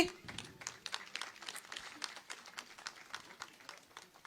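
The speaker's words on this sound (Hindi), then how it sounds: "तालियां हो आपकी तरफ से।" Faint, scattered clapping from an audience at an outdoor award presentation for team captains at a CTC Musabani parade. Individual claps are distinct and moderately paced, with low background noise.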